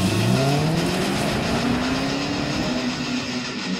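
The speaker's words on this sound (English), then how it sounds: "Here's our stock 2005 GTO. This doesn't sound terrible" Stock 2005 Pontiac GTO V8 engine and exhaust revving steadily, its pitch rising and droning loudly and continuously with no talking over it.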